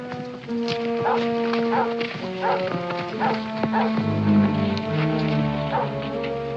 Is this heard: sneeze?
no